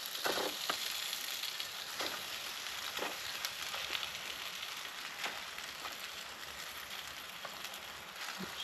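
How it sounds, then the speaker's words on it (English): Food sizzles and fries steadily in a pan over an outdoor fire in woodland, a continuous crackling hiss with small pops, close and fairly quiet. "It's sizzling."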